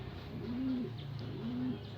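Racing pigeons coo softly and repeatedly in a low, rolling rhythm, two drawn-out calls heard close over a faint background hum in a pigeon loft.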